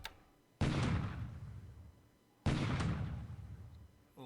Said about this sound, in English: Another bombardment.